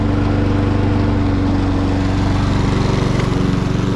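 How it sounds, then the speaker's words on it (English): A petrol lawn mower engine runs continuously at a steady, loud idle-like drone with a throbbing low pulse, close by and alone. "I basically can't stop this mower now"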